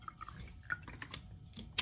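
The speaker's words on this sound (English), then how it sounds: "Then we have this jar here, and I'm going to pour some water." Water poured into a jar comes through as faint, irregular drips and small splashes over a couple of seconds, ending in a sharper splash, quiet and close with no talking.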